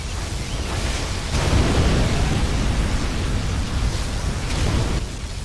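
Particle cannon firing in the RTS game Command & Conquer Generals Zero Hour: a sustained, loud, roaring noise-like blast with heavy low rumble, swelling around the middle and holding steady across the whole stretch, with no voices.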